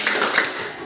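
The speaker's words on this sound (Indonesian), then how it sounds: "Multimedia tepuk tangan 2 kali." Two quick hand claps from a classroom of vocational high school students, crisp and close, sounding over light room noise with no talking.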